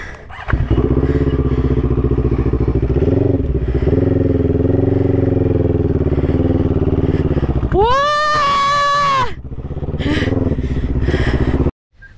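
A CF Moto motorcycle engine during off-road practice, loud and close, idling steadily before a sharp rising rev and a drop back, then cutting off abruptly near the end.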